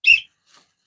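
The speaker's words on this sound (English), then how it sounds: "So there's the referee's whistle." One short, sharp whistle blast sounds close by in a loft, used to signal feeding time, followed by a faint echo-like trace, then silence.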